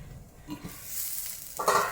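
Onions and carrots fry in a pan, a short burst of soft sizzling and stirring that swells louder near the end, with no voices.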